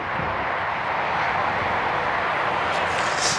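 A radio-controlled model airplane flies fast and low overhead with a steady, buzzing electric-motor whine and rushing air, loud and close throughout.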